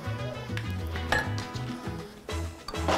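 Dry quinoa poured into a pan for sweet potato quinoa tacos, a close clatter of grains and light clinks of utensil against the pan over steady kitchen background.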